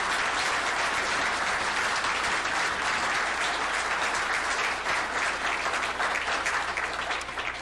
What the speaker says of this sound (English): they deserve our applause for the work they do to serve us.